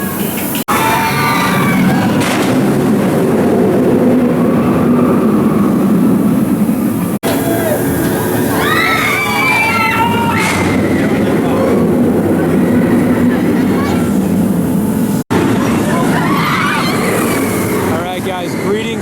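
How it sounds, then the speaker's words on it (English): Alton Towers roller coaster roars through a tube with a loud, continuous rumbling rush of wheels on track, while screams and crowd voices carry over it. "the roller coaster going down the tube"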